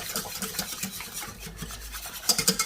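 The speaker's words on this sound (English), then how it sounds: "So give it a whisk, add a little bit more milk." Whisking milk into a lasagne sauce in a pan, a quick, rhythmic scraping and rasping of a whisk against the pan, close and continuous, with no talking.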